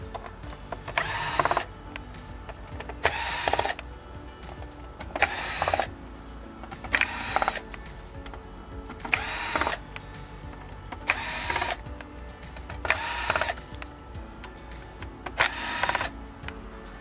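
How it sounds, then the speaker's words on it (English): An electric screwdriver removes screws from the mainboard of a Sony XBR-55X930D/XBR-65X930D 4K TV in eight short, evenly spaced whirring bursts, close and fairly loud, with quiet gaps between them. "And now let's go ahead and remove the screws."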